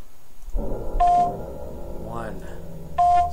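Phone-style keypad tones from The Crystal Key video game sound as two short electronic beeps about two seconds apart, with someone talking over and between them.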